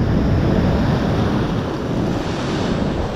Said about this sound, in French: nous sommes à la plage de la Digue à Tarnos et on a des vagues qui font ma taille